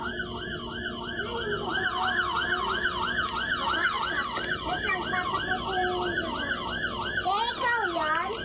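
A police siren wails in a fast, repeating up-and-down pattern, loud and continuous, with traffic noise underneath and brief voices near the end.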